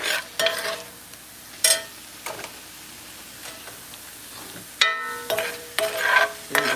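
Shrimp frying in a hot pan, with intermittent bursts of sizzling and scraping stirring that rise and fall irregularly, close and fairly loud, with no talking.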